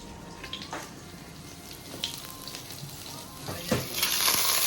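Onions fry in a pan for pigeon curry, giving a steady close sizzle with occasional stirring scrapes and a few louder spits.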